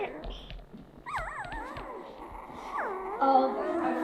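A five-day-old puppy whimpers and squeals in several rising and falling high-pitched cries, close by, with faint voices and rustling in the background.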